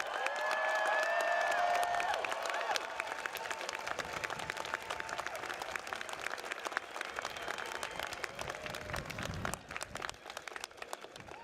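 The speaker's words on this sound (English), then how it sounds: "let's give them another applause for the gratitude they deserve." Audience applause fills a graduation ceremony hall for the faculty, dense clapping that swells at first and then thins out gradually into scattered claps.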